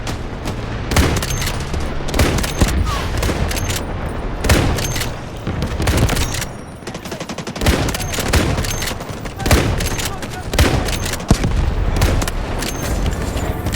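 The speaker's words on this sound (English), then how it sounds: "Artillery barrage ready." Heavy bombardment in the Delta Force video game, continuous loud blasts and rapid shots layered into a dense roar throughout, with someone talking over parts of it.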